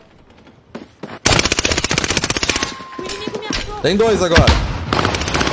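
Rapid automatic gunfire bursts ring out in the Warzone Rebirth battle royale video game, dense and loud shots stacking with occasional louder impacts, while a player talks over the shooting.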